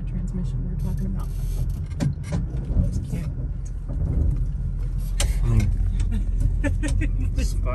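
A survivor-condition 1964 Chevrolet Nova sits at a low idle, its engine giving a steady, close rumble throughout while people talk over it.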